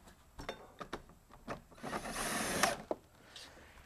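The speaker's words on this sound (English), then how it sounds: "That goes in really easy with the self-tapping screws." A power drill drives self-tapping screws into a vinyl gate, heard as a short whirring burst amid sparse knocks and handling taps, close and fairly quiet.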